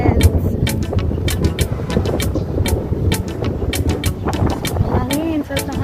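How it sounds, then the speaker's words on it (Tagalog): Gusty wind buffets the microphone outdoors near a shopping mall in Hong Kong, a loud rumbling roar under scattered sharp clicks and a voice speaking. "Hangin, sarap ng hangin, no?"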